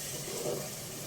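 Tamarind extract pours into a pan of fried ginger, garlic and onion for a Mayu fish pulusu, giving a short, soft, steady liquid wash that swells briefly midway, with no talk.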